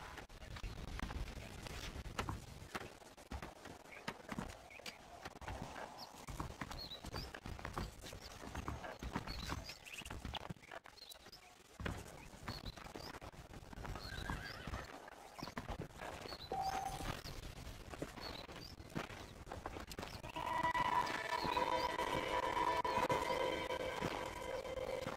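Steady clip-clop of horse hooves trotting along for the whole stretch in the video game Red Dead Redemption, with an occasional neigh and a louder, busier patch of ambience toward the end.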